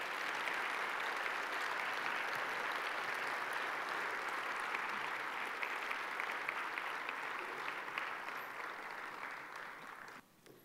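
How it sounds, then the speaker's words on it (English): An audience applauds steadily after an honor choir performance, a dense, sustained wash of clapping that fades toward the end. "let's give these wonderful artists one more round of applause"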